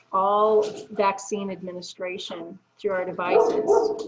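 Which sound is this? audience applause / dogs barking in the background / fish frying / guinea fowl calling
dogs barking in the background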